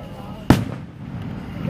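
A single sharp firework bang cracks out close by, then its echo fades into a low murmur of background noise.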